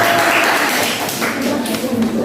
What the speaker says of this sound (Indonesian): kita berikan tepuk tangan semangat lagi untuk